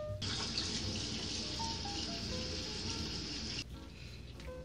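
Tap water runs steadily into a sink while fresh mussels are washed, a close, continuous rushing splash that cuts off near the end, leaving quieter dripping and handling.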